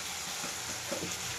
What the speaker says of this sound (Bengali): এবারে এইরকম ভাবে আমি কিছুক্ষণ ভাজবো